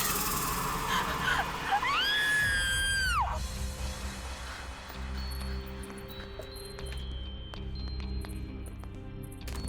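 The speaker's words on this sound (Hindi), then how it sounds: "यहाँ तो कोई नहीं है, फिर ये चीख।" In a horror story, a woman lets out a long, loud, wavering scream of about a second and a half, followed by eerie, tense ambience with scattered faint clicks and knocks.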